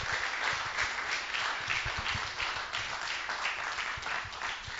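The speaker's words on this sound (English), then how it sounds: "He deserves a big round of applause." An audience at a correctional facility awards ceremony applauds an award recipient, a sustained round of many hands clapping at moderate distance, steady for several seconds without speech.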